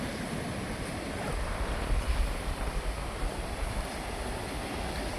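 Sea waves at Vung Tau beach in South Vietnam wash in a steady, broad rushing surf that swells slightly midway, moderately distant, with no voices.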